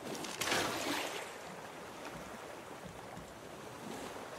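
Ocean waves in the survival video game Raft, heard as a continuous wash of surf and wind with a stronger swell near the start, then a steady rolling hiss.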